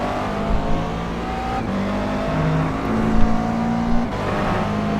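A McLaren MP4 GT3 race car in iRacing at night-time Daytona accelerates steadily, its engine a loud, continuous drone with rising tonal pitch under gentle throttle and no talking.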